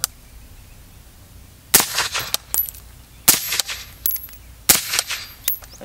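Suppressed gunshots from a 7.62 rifle fitted with an AB Suppressors A-10 Warthog suppressor, four sharp cracks spaced about a second or more apart, each followed by clinking and brief echo outdoors.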